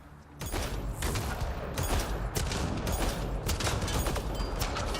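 Dense, continuous gunfire in the sci-fi shooter Mass Effect Andromeda, with rapid overlapping shots and bursts forming a loud, sustained barrage that starts abruptly and runs without talk.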